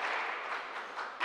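Steady applause from a debate audience at a state senate candidates' event, a continuous wash of many clapping hands with small swells, near and alone with no talk.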